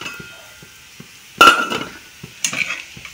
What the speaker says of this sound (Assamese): এয়া আলু ভাজি বনাইছোঁ